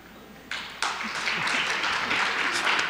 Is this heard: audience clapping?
yes